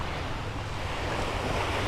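Waves wash steadily onto a beach with broad, continuous surf noise and some wind buffeting the microphone, no voices.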